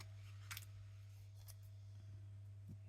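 Scissors snipping cellophane on a craft page in a few brief broadband cuts, quiet and close, over a steady low electrical hum.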